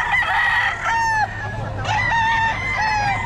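Several close, loud rooster crows in succession, harsh rising-and-falling calls overlapping one another with farmyard clucking underneath.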